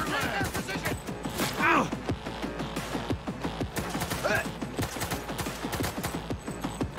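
Rapid gunfire in Cyberpunk 2077, a steady stream of sharp close shots rattling in quick rhythm, with a couple of short shouted voices poking through the barrage.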